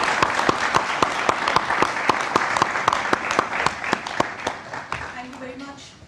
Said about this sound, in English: May I have standing applause from the audience